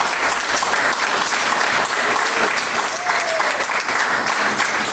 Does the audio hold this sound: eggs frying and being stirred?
no